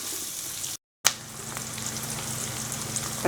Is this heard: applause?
no